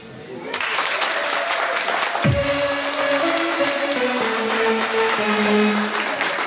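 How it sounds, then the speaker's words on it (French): Crowd applause at a local crafts and know-how fair in Lillebonne, a broad sustained clapping wash lasting throughout, with some speech and tonal sounds mixed underneath. "Je crois qu'il y a des gens qui vont vous applaudir."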